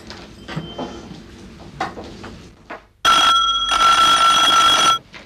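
A telephone rings at home, a loud, sustained electric bell burst lasting about two seconds after some quieter clattering household noises.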